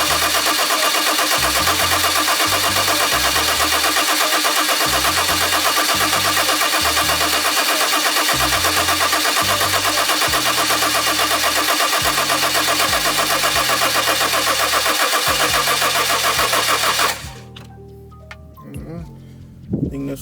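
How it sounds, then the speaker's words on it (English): A car engine cranks in repeated rhythmic bursts over a steady loud background hum, the starter turning over many times before cutting off into a quieter pause with faint knocks and movement. "let's go ahead and see if it starts"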